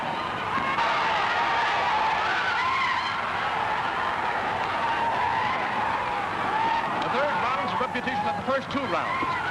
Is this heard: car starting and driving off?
yes